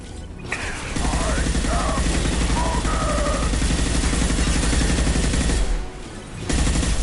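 Sustained automatic gunfire in Mass Effect 2, a loud rattling stream of shots that runs for several seconds, pauses briefly, then resumes.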